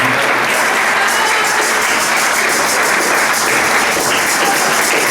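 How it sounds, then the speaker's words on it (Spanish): Dense, steady applause from a church congregation welcoming the bride at a wedding ceremony, loud and continuous throughout without a break. "Dale un aplauso para la novia."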